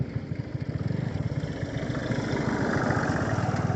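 A motorcycle engine runs close and loud during a village ride, its rapid pulsing thrum steady at first, then rising into a smoother, fuller roar as the bike picks up speed.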